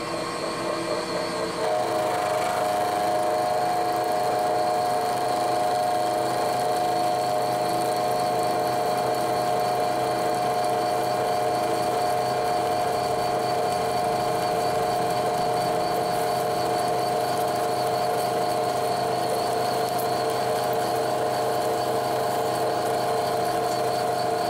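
A milling machine face mill with carbide inserts runs at 1200 RPM, cutting aluminum dry without coolant, making a steady, sustained tonal whine and hum with no break throughout.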